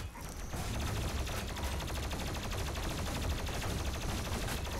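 Gunfire in Doom Eternal, rapid sustained automatic bursts forming a dense, continuous rattle at steady loudness for several seconds, up close and alone.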